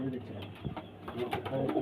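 Phulshira pigeons give brief soft coos and rustles nearby, blended with low background noise and a faint voice.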